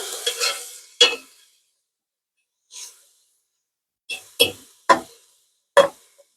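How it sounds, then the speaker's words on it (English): Onions frying in a pan on a camp stove for quesadillas are stirred, with a hissing scrape followed by several separate sharp sizzling scrapes, close and fairly loud with quiet gaps between. "And give that a good stir."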